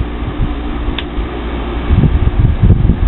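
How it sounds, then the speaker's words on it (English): An old window air conditioner runs with a steady broadband whoosh of fan and airflow, a low rumble swelling as the compressor kicks on partway through; no talk. "the compressor just kicked on"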